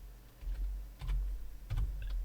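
Quick bursts of typing on a computer keyboard, a few clusters of clicks separated by short pauses, close and clear over a low steady hum.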